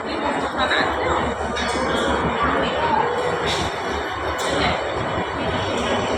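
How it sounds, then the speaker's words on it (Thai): A long freight train rumbles steadily past at a Thai rail crossing, its broad grinding noise continuous and moderately loud while people chatter nearby. "รถไฟยาวด้วยพี่น้อง รถไฟขนสินค้าหรือเปล่าไม่รู้ ยาวเลย"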